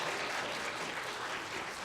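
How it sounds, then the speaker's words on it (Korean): A roomful of people, likely at a school quiz event, applauds dense and steady to welcome the provincial council chairman, the clapping loud and sustained throughout. "정기열 의장님을 환영의 박수로 맞이해 주시기 바랍니다"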